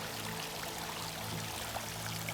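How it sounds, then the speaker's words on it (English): Water pouring steadily from the outlet of a natural swimming pool converted to an eco pool with floating plant beds, a continuous splashing rush with no voices. "I still have a fair bit of water coming out the outlet that I can play with."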